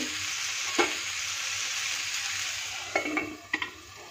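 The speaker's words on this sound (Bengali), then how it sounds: "এভাবে সবজিটা ভাজা হতে থাকুক, আমি এটিকে এবার ঢেকে দেব।" Pumpkin and potato pieces sizzle steadily in a hot pan, a continuous close frying hiss broken by a few sharp clinks and scrapes of a utensil against the pan near the end.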